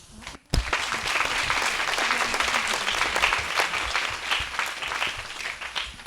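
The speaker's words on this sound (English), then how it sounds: "Once again, big round of applause for Simon" After a brief hush, a keynote audience at the APDEC 2016 conference in Taiwan breaks into sustained applause for the speaker, a full room of clapping that holds steady throughout.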